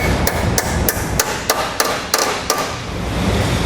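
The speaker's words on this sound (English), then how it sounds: "on each side, this tab here, we're going to take a hammer, we're going to bend it up flat" A hammer strikes a steel tab on a Roadmaster Direct-Connect base plate bracket, bending it flat on a 2016 vehicle: about eight sharp metallic blows at a steady, fairly quick rhythm, close and loud over a low background hum.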